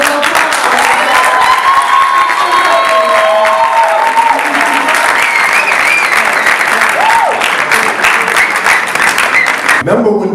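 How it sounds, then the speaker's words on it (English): At a convention kick-off, a large audience gives a loud, sustained round of applause, an even wash of clapping with scattered whistles and cheers, ending abruptly. "So if you could all give him a round of applause"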